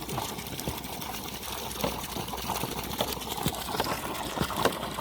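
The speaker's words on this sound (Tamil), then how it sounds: "தண்ணி அப்படியே போய்கிட்டு இருக்கு முன்னாடி" Water gushes from the outlet of a 3000W BLDC borewell pump drawing from a 600-foot, 50mm bore, a steady rushing flow heard close and continuous with no talk.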